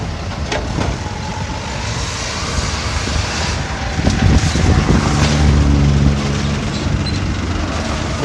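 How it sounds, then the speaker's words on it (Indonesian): Heavy dump trucks rumble in and out at a railway construction site, with a loud continuous engine drone that swells midway as a truck passes close, with no talk. "mobil dump truck keluar masuk."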